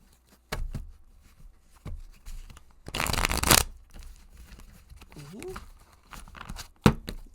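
Tarot cards are shuffled by hand in a few short riffling bursts, the longest one near the middle, with voices talking quietly in between.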